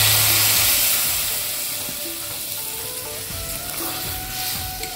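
Spices with Kashmiri chilli powder sizzle loudly in a pan right after water is added, a steady hiss and crackle that fades slightly as it settles, heard alone with no talk.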